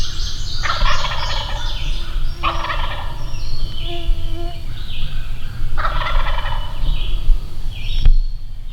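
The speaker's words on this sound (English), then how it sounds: "we got birds gobbling their heads off" Wild turkeys gobble loudly in repeated rattling bursts, several calls spaced across the stretch over a steady low outdoor rumble, with faint bird chirps in the background.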